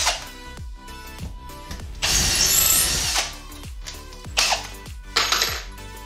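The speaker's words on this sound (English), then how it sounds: "So we have the 1/4 inch drill bit. We're gonna drill those holes." Power drill with a 1/4 inch bit boring holes while a Sanus tilt-and-extend TV wall mount is installed, a loud sustained whine for about a second amid shorter bursts and clicks, with no talking.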